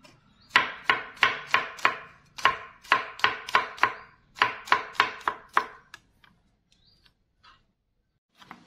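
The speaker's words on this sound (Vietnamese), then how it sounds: "tỏi thì mình sẽ bầm nhuyễn ra" A knife mincing garlic on a board taps out quick, crisp bursts of rapid chops in several rhythmic runs, then slows to a few scattered taps before stopping, close and clear with no talk.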